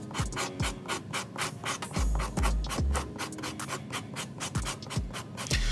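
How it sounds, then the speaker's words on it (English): A paper blending stump is rubbed over sandpaper in quick repeated strokes, a close, rhythmic scratching that keeps a steady back-and-forth pace with no voices. "all I'm doing here is sanding down my blending stump, evening it out"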